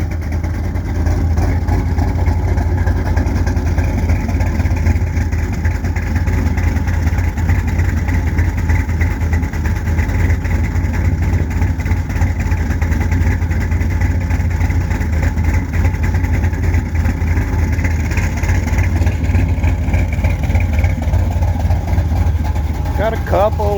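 A cammed Chevy 350 V8 idles steadily and loudly up close for the whole stretch, with a deep low rumble, a lopey uneven beat and faint exhaust spits from small exhaust leaks.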